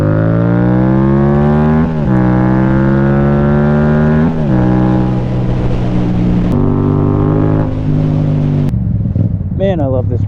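A motorcycle engine runs steadily underway, loud and close, with its pitch rising and dropping through several gear changes as the bike accelerates and shifts, continuous throughout.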